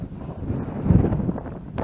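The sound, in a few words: strong wind blowing on the camera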